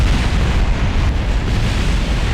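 Rocket blowing apart on the launch pad in Kerbal Space Program 1.2, with the main engines at the base failing: a continuous, loud, rumbling roar of explosions filling the low end with steady crackle, no pauses and no voices.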